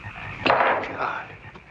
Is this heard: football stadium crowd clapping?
no